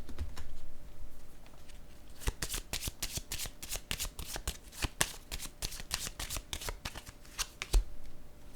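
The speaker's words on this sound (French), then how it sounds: "Attendez, je vais piger une carte sur le présent." Tarot cards being shuffled and one drawn from the deck, a close run of quick crisp riffling flicks and snaps in an irregular patter, with no talk.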